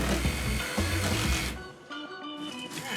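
A power tool saws through a couch, giving a loud, steady whirring grind that dips briefly partway through, with no talking over it.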